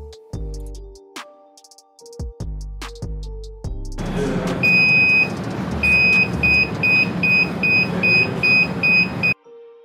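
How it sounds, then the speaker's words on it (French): A methane gas detector sounds repeated short, high electronic beeps in a steady rhythm over a loud hiss, after a series of separate tones and thuds. "Ce dernier émet un signal sonore lorsqu'il en détecte."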